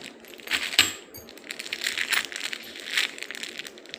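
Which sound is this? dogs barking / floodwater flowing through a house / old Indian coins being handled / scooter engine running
old Indian coins being handled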